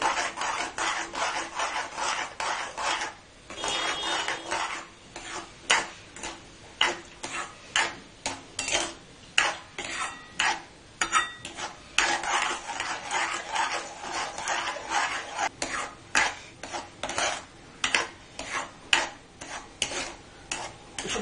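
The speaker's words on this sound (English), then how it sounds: "you have to continue to keep on stirring it" Mawa milk solids for barfi are stirred in a pan, a close, rhythmic series of scraping, rasping strokes of a spoon against the metal, repeating steadily and alone.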